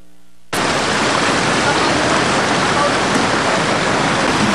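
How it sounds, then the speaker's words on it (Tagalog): After a brief quiet moment, a sudden loud, constant rush of floodwater roars from the Pangi river in Davao City during heavy rain, a dense, steady torrent sustained until the end. "Mel, Mike, sa bilis ng pagragasa ng tubig, baha mula sa ilog ng Apangi dito sa lungsod ng Davao."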